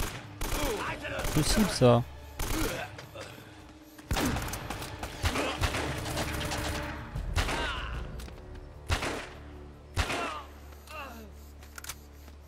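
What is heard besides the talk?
gunfire in video game Uncharted: Drake's Fortune Remastered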